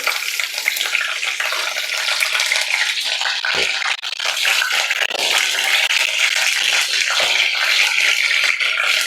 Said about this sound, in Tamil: எண்ணெய் சூடானதுக்கப்புறம் கருவேப்பிலை எடுத்து வச்சுருக்கோம் இல்லைங்களா அதை போட்டுக்கலாம் கருவேப்பிலை பொரியட்டும்